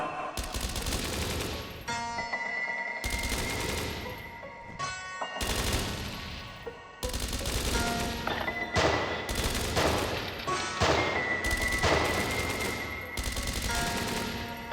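Repeated volleys of gunfire erupt during an ambush in the video game Dreams Of Another, in clustered bursts with short pauses, each shot trailing a ringing echo.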